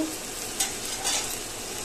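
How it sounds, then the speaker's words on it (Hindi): Tomatoes and salt being stirred inside a pressure cooker while cooking a potato and cholai bean curry, a steady soft scraping sizzle with two brief louder scrapes, close and alone without talk. "चलाते हुए इन नमक व टमाटर को अपने कुकर के अंदर अच्छे से मिलाना है"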